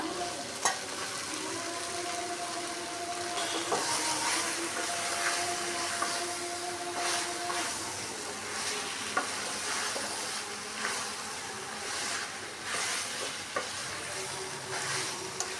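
Vegetables and fried katla fish head sizzle in a pan, a constant close crackle of frying broken by repeated scraping strokes of a spatula as the food is stirred.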